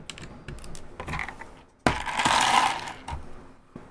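Clacking and rattling from an NK65 mechanical keyboard while its switches are swapped, with scattered clicks and then a loud burst of plastic and metal rattle in the middle, close up and with no talking.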